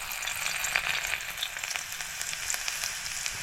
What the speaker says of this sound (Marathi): तेल तापलंय बघा आता आपल्याला ह्याच्यात लसूण टाकायची आहे